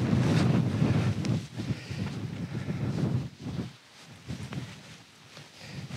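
Wind gusts buffet the microphone at a wild camp in a quarry at sundown, a loud broadband rumble that surges and eases in waves, briefly dropping lower near the end.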